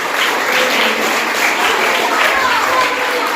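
Students and audience at a school geography quiz competition applaud loudly, a dense, steady wash of clapping that holds evenly from start to finish, with faint voices mixed in.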